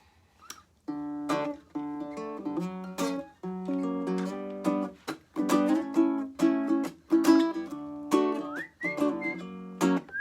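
A person whistles a melody in clear sustained tones over guitar accompaniment, phrases rising and falling with short pauses between them.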